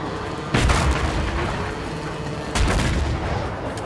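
Two heavy booming blasts in the video game A Way Out, about two seconds apart, loud and close over a dense rumbling background.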